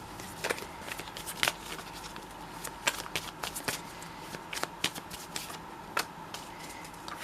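Tarot cards are shuffled in a quick, papery riffle of snaps and flicks, a steady run of soft slaps over a faint room hush, with no talking.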